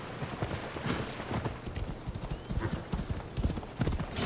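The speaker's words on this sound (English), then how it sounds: "Ah, good horse. Still waiting where I left you." A horse in the video game Assassin's Creed Odyssey trots along with a brisk, steady clip-clop of hooves, fairly quiet, mixed with game ambience and a voice talking faintly.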